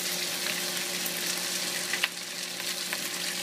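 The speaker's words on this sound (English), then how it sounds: "You hear that sizzle?" Steady, loud sizzling of glass noodles stir-frying in a hot pan, close up, with a brief sharper crackle partway through.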